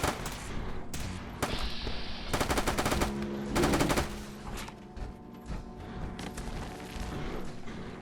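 Bursts of rapid automatic gunfire in Fallout 4, loud and close, with dense rattling volleys separated by shorter shots over a busy game soundscape.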